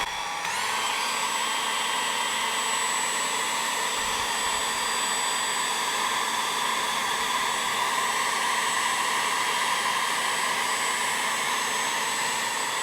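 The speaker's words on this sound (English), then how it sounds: "So this is just a normal hairdryer. It's gonna be a bit loud, I'm afraid." A hair dryer switches on and blows with a steady, loud whir that holds unchanged to the end, with no talking.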